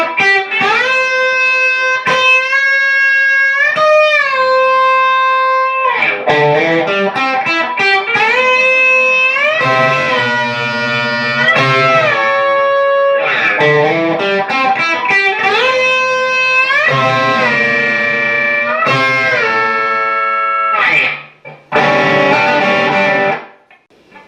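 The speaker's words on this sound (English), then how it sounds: "for the verse slide parts, we'll call it a slide lick because he does hit some strings along with the slide" Slide guitar lick from the verse of a song on electric guitar, with gliding pitch bends between picked notes in repeated phrases, loud and driven with distortion, playing alone.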